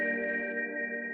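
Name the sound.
infinite reverb audio effect in Ableton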